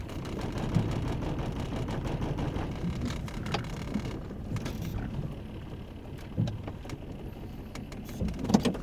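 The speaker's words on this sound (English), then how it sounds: "that is the vehicle misfiring" Rough, uneven rumble of a misfiring van engine with irregular stumbles and pops, close by and steady in volume, no voices present.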